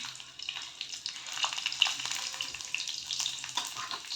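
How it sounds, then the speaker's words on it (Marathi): Crushed garlic fries in a hot pan of oil for a spiced dill-greens curry. It sizzles and crackles steadily up close, with a few stirring scrapes. "आता मी फोडले लसूण टाकते"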